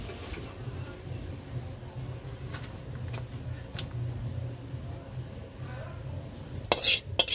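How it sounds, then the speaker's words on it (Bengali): A metal wok is set onto a village kitchen stove with a brief cluster of clanks and clinks near the end, after a long stretch of low background hum and faint scattered taps. "কড়াইটা চুলাই দিছি, তেলটা দিয়ে দেই।"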